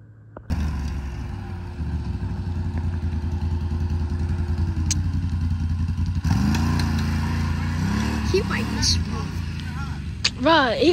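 Can-Am Renegade XMR 1000 and Polaris Sportsman ATV four-wheelers running nearby, a steady loud engine drone that holds, then shifts as one revs up, with people talking and laughing over it.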